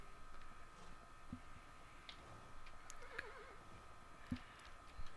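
A video-game horse rears and whinnies in a wavering neigh amid a faint steady hum, with a few soft thuds and clicks around it.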